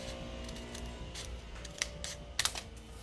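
Thick paper being cut with scissors while following an earlier cut line, heard as a few soft, crisp snips close by, with two sharper clicks near the end over a faint steady hum; no speech.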